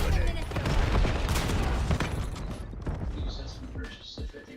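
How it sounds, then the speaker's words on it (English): A cluster grenade goes off in a Black Ops 7 match as a chain of heavy, overlapping blasts and crackling debris, loud and dense, tapering slightly toward the end with some game voice mixed in. "Enemy cluster grenade!"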